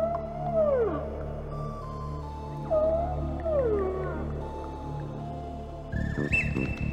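A whale sings in long, swooping moans and rising and falling tonal calls, several phrases in sequence over a steady low rumble, clear and fairly loud, ending in a higher sustained note with a burst of noise.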